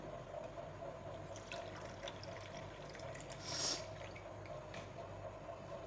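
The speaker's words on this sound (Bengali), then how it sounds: "এখানে এক কাপ জল দিলাম" A cup of water poured into sugar and chana dal for laddu, a steady close trickle and splash with a brief louder gush partway through, no voices.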